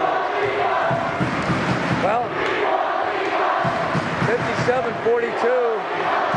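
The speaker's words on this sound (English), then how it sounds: "the crowd is going wild" A basketball crowd yells and chants for Parker at a district game, loud and continuous, with a commentator talking over the noise.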